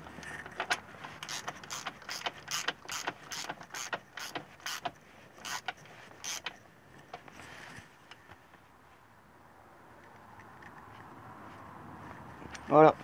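A ratchet wrench tightens a bolt on an NP231 transfer case of a Jeep Cherokee, with a series of close, crisp clicks for several seconds before it goes quiet. Faint low background noise follows, and a thump comes at the end.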